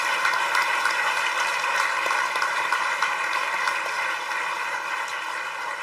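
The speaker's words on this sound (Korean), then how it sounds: "함께 축하의 박수 보내주시죠" Sustained applause from a large church congregation celebrating during a Sunday worship service, a steady dense wash of clapping that holds evenly throughout and eases slightly toward the end.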